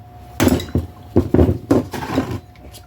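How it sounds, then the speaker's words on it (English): A handful of sharp metallic strikes land in quick succession, a hammer hitting a screwdriver up close with short pauses between blows, during repair of a Husqvarna chainsaw. "I'm going to give this a couple of good whacks."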